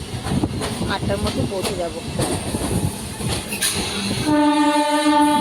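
Local train travelling toward Canning in West Bengal, a continuous rolling rumble under lively speech, with a tonal horn or whistle sounding in the last second.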